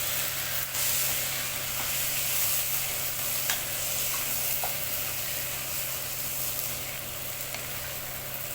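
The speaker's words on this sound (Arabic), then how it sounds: "انزل عليها بالرز، قلبي قلبي قلبي عشان الشعريه تطلع فوق بقى" Rice stirred into golden fried vermicelli in a hot pan gives a steady loud sizzle with soft scraping and occasional light clinks, continuous throughout with no talking.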